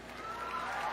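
Audience at a stand-up comedy show bursting into applause, a brief, steady wash of clapping that swells slightly across one second.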